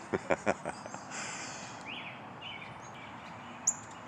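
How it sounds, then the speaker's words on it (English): Sparrows chirp outdoors on a morning walk, a few sharp, quick calls up front and then scattered faint tweets over a steady low background hum. "8:35 a.m. and here comes the sparrows"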